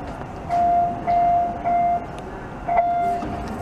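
Train interior ambience with a rumbling background and four evenly spaced electronic warning beeps, each about a third of a second long.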